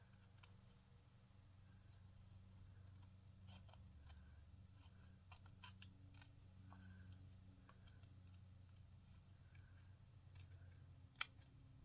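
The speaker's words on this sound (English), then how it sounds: "I'm getting better with the scissors." Scissors snip fabric in a quiet room, with a string of crisp, irregular cuts and clicks spread across the clip and one sharper snap near the end.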